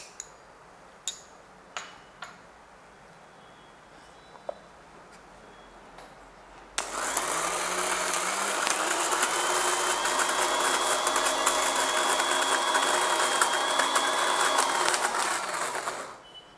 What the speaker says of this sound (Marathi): ती मिक्सरमध्ये आपण पेस्ट करून घेऊया